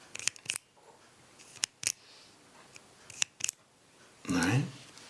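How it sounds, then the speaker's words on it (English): Sharp, isolated clicks from a Zebra X701 metal pen, several spread irregularly across a few seconds, close and fairly quiet, with a brief burst of speech near the end. "So click the metal one."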